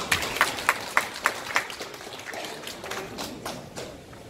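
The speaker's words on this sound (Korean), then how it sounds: "박수 부탁드리겠습니다." An audience at a local community meeting claps, starting with several sharp, evenly spaced claps that thin into scattered, fading applause in a room.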